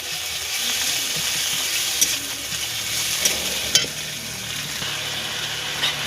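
Garlic paste sizzles and fries steadily in hot oil in a home kitchen pan for chicken biryani, with a continuous bright hiss, a few sharp crackles and the occasional scrape of stirring throughout.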